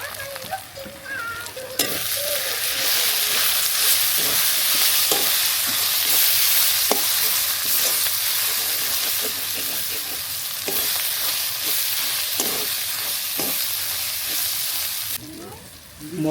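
Ground coriander, chilli powder and salt sizzle and fry in a pan for Bengali chicken curry, with steady loud frying and repeated scraping stir strokes throughout; no talk.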